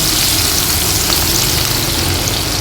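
Onions frying in hot oil in a pan for chicken biryani gravy, a dense continuous sizzle and crackle, loud and close throughout with no voices.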